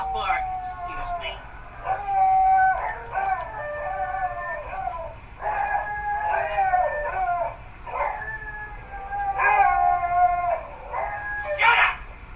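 A dog howls and yelps in long, wavering, rising and falling cries at moderate distance, repeating over steady low background noise with no talking.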